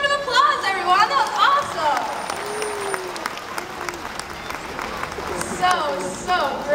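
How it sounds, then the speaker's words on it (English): Audience applause fills the stands at a SeaWorld Orlando pilot whale show by the pool, steady clapping with crowd chatter and whistle-like calls rising over it, fairly loud throughout. "Give her a round of applause, everyone."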